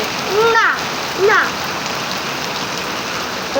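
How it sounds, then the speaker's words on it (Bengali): Steady rain drums on a tin roof, a dense, even patter that runs through the whole stretch, with two brief bursts of a voice rising above it. "দেখো কত সুন্দর টিনের চালে বৃষ্টির শব্দ ঝমঝম করে ভালো লাগে"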